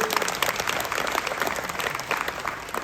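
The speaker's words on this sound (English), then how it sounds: "Let's give him a round of applause." An audience at an academic session on hypersonic flight vehicle control gives a speaker a round of applause, a brief, continuous patter of many clapping hands with no voices over it.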